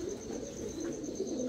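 Pigeons on a farm coo in a soft, continuous low murmur, a close, even burble with no other sounds over it.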